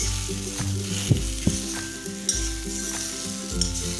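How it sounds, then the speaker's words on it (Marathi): Ridge gourd sautéing in hot oil, a loud, close sizzle with a few sharp clinks of a spatula stirring against the pan, and no voices. "इथे आपला दोडका पण छान असा तेलावरती परतला गेलेला आहे"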